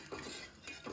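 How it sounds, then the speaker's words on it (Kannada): Ragi flour being stirred into water in a pot, short soft scraping strokes of a spoon repeating quickly, quiet and close. "ನೀರಿಗೆ ಫಸ್ಟ್ ಹಾಕ್ಕೊಂಡು ಆ ರಾಗಿ ಹಿಟ್ಟನ್ನ ಜಸ್ಟ್ ಸರಿಯಾಗಿ"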